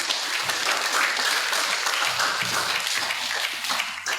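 A church congregation at a feast-day service at St. Sebastian Church claps together in thanks, producing a dense, steady burst of applause with some louder individual claps standing out.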